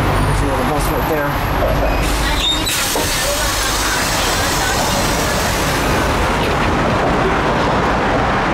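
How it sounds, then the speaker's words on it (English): A Beijing public transit bus arrives near the China Central Radio and TV Tower, its air brakes releasing a loud hiss early on over a steady rumble of engine and street traffic. "There's another bus right there."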